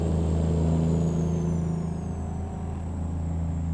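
A sporty car overtakes a truck on the highway in American Truck Simulator, its engine note rising over a steady, loud low truck drone that dips slightly mid-pass before settling back.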